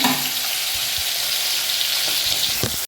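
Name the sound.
dal cooking with fenugreek in a pan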